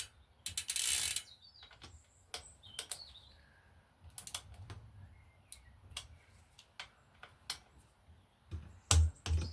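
A torque wrench ratchets on bicycle bolts in short bursts of sharp mechanical clicks separated by pauses, close by in a quiet room.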